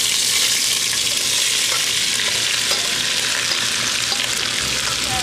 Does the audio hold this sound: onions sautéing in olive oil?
yes